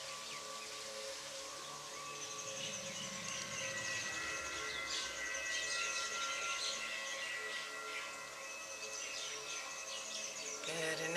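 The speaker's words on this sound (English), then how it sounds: "perhaps you can hear the birds that are singing in our" Birds sing and chirp in the trees during an outdoor session, a steady layer of calls with a low rumble in the background.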